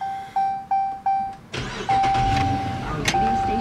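A 2015 Dodge Charger police pursuit vehicle with the 5.7 HEMI V8 sounds a repeated warning chime, then the engine cranks and catches with a loud rumble and settles into a steady idle while the chime continues.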